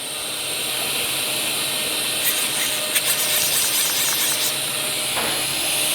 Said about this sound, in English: then we choose a hand wheel and we move the machine.